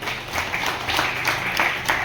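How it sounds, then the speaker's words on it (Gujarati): An audience claps and cheers continuously at a lively stage game show, dense applause with no talk. "જોરદાર તાળીઓ થઈ જાય"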